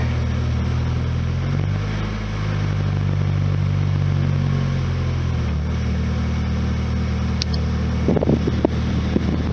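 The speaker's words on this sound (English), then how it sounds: "Ooh, the air conditioner clicks on." A 1991 Lotus Elan's air conditioner runs with a steady low mechanical hum and fan whir inside the car, the drone shifting partway through before a few clattering clicks near the end.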